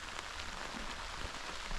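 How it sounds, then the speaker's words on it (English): Heavy rain pelts down on Chesil Beach at Cogden, a steady dense hiss of drops with no pause and no voices. "I'm gonna go out in this rain that you can probably hear absolutely pelting down"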